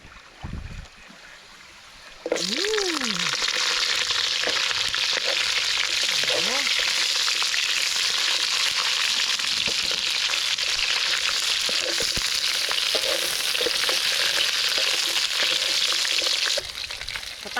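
Okra hits the hot oil in a pan for a chili garlic sauce dish, bursting into a loud, steady, close sizzle that holds evenly for about fourteen seconds before stopping abruptly; a few faint utensil sounds come through.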